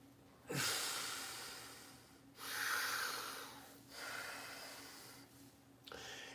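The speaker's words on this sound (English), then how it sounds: "In through the nose, out through the mouth." Deep breaths drawn in through the nose and pushed out through the mouth during a yoga exercise, three long loud airy breaths in slow rhythm, very close, with a fourth beginning.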